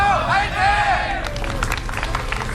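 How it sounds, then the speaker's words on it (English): Crowd of fans at a 2010 GSL StarCraft match cheering and clapping, a broad roar of applause that swells then breaks into scattered claps, with a commentator talking over it. "it's so exciting to hear the fans out here cheering for their players"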